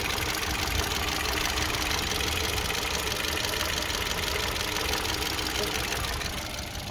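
A Hyundai Solaris car engine idling, with a steady, even rumble and faint mechanical ticking that holds throughout at moderate volume and eases slightly at the end.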